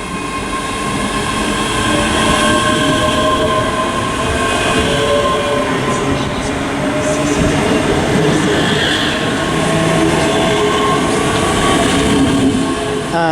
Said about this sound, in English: final train to depart is 385-105, a 1710 ScotRail service to Springburn